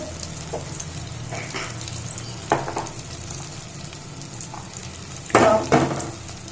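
Ground spices sizzle in hot oil in a pan as the masala for paneer dum biryani cooks, with a steady close frying hiss broken by a few louder crackling bursts and light stirring clatter; no one talks.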